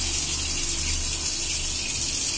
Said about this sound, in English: You can see the water flowing here.